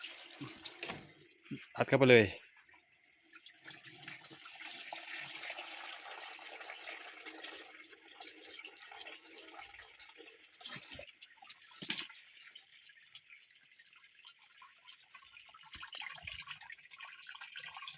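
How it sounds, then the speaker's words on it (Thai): Water runs from an opened tap into a household water system to flush engine oil out of it. There is a brief loud gush, then a steady moderate flow, with someone speaking over it. "เปิดก๊อกน้ำไล่ทีหนึ่งครับ"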